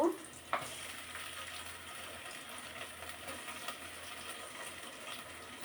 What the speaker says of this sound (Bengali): পেঁয়াজ গুলো ভাজা ভাজা হয়ে গেছে এখন আদা রসুনের পেস্ট দিয়ে দিব